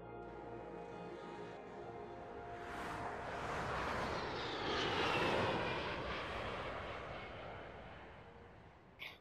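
Airplane engines drone steadily in The Crew racing game, a broad roar that swells to a peak midway and eases off again, with no talk over it.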